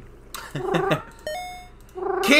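Cartoonish cat meows from the video game Mushroom Cats, three to four short mews, a brief electronic tone and a final louder meow, close and clear with no talking.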